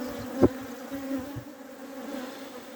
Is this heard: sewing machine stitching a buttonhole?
no